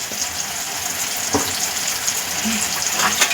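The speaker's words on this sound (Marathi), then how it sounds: "आता हे एक मिनिट परतून घेऊया आपण व्यवस्थित" Tomatoes with turmeric and salt sauté in a pan for a crumbled chapati chivda, a close bright sizzle with a few scraping stirs, no voices.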